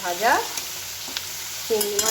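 Prawns fry in a pan with a steady, close sizzle and crackle, and stirring scrapes now and then.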